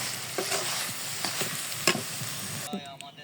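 Leafy saag frying in a pan, a close steady sizzle with a few stirring scrapes, tapering as the greens come off the heat.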